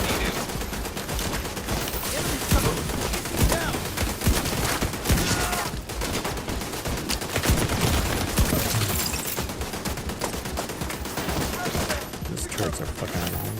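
Sustained, dense gunfire from automated turrets in The Division 2 fills the whole stretch, a steady barrage of loud, overlapping shots with no clear pauses.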